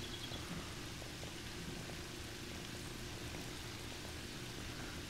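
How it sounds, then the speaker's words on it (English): Rain falls in the survival game 7 Days To Die Alpha 12: a faint, steady wash of hiss and patter that continues without a break and carries no voices. "it's raining"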